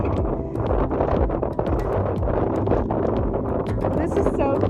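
Strong wind blowing on Mt. Ibuki in Japan, a loud, constant gusting roar buffeting the microphone, with a voice briefly heard in the background.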